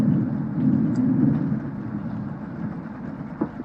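Steady rumbling downpour with low thunder-like roll from a flooding rainstorm in the video game Cooking Companions, continuous and moderately loud, with a faint knock near the end and no speech.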